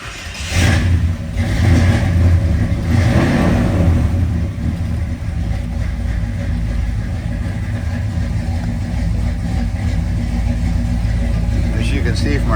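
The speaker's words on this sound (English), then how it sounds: "start this baby up. It is a big block car and it is carbureted" A big-block carbureted engine in a 1963 Pontiac Catalina cranks and fires up from cold, revving briefly before settling into a loud, rumbling idle; a voice speaks over it at the start.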